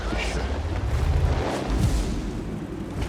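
In a tank video game, a tank gun fires from concealment, producing loud, booming, rumbling blasts under someone speaking excitedly.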